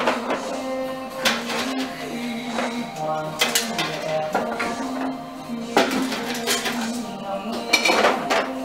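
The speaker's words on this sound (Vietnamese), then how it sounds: "Thì giờ mình bỏ nó vào nồi, mình vô cái sỉnh này đây, mình hấp." Australian scallops being loaded into a steaming pot in a home kitchen, with repeated metallic clatter and clinks of pots, lids and utensils close by, steady through the clip with no talk.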